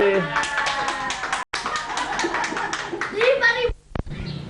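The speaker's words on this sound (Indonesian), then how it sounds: "Tepuk tangan semuanya." Children clap their hands at a kids' competition, with quick bursts of close, lively clapping mixed with children's voices and chatter. The clapping breaks off briefly partway through.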